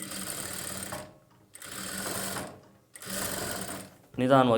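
A sewing machine stitching a boat neck blouse along piping: three steady runs of fast mechanical whirring, close and even, separated by brief pauses, with a voice starting up at the end.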